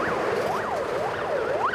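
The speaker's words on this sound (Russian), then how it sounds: "Тут же в развлекательном комплексе завывает сигнал об эвакуации здания." A building evacuation alarm wails inside an entertainment complex: a loud, steady electronic siren that sweeps up and down in pitch about every half second, repeating without pause and with no voices.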